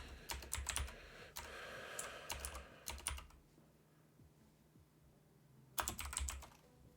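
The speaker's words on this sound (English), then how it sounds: "I'm just going to start typing a bunch of stuff" Bursts of typing on a computer keyboard, quick clusters of key clicks for about three seconds, a pause with only quiet room noise, then another short burst near the end, with no talking.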